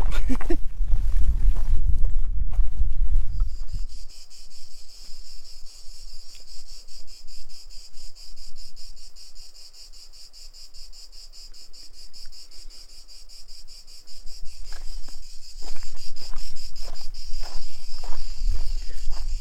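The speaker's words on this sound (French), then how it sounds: "Ça tchatche, les cigalous." Cicadas buzz in a loud, steady, shimmering drone through a summer hillside on a rocky mountain hiking trail. Footsteps and rustling on loose stones can be heard at the start and near the end.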